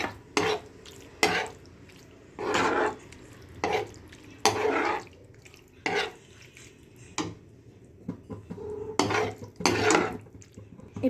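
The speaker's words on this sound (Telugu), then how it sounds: "ఎగ్స్ వేసుకొని మిక్స్ చేసుకుందాం." Eggs being stirred into macaroni with vegetables and white sauce in a pan, heard as repeated bursts of scraping spoon-on-pan stirring with brief pauses between, close and moderately loud.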